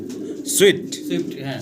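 A pair of cream-coloured fancy pigeons, male and female, gives a single soft coo close by, with a voice talking around it.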